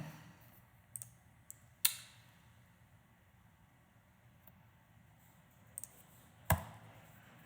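A few sharp mouse clicks on a computer opening a terminal in Ubuntu Linux, sparse and close, with quiet room hiss between them and a louder click near the end.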